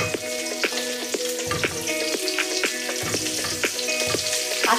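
Potato and pumpkin chunks fry in a pan, a steady close sizzle broken by regular clinks and scrapes of a spatula stirring, with no talking.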